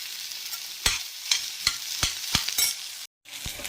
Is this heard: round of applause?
no